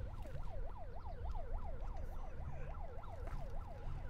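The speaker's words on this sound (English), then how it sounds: "as you can hear, we have the siren going right now" A siren wails up and down in a steady repeating cycle, loud and continuous over a low rumbling background.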